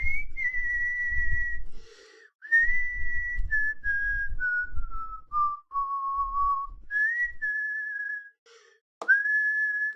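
A person whistles a melodic line of long, held, slowly descending notes that mimic an instrument's high register, clear and close, with a few short pauses and faint background rumble.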